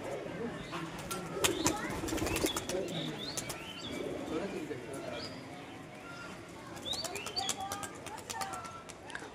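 Pigeons for sale at a breeder's loft cooing in low rolling calls, with occasional wing flutters and chirps, as someone talks over them nearby.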